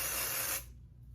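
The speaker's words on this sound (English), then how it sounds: "I'm just going to take this and spray it in the roots of my hair" Dry shampoo aerosol sprayed into the roots of the hair, a steady close hiss lasting about half a second before cutting off to quiet.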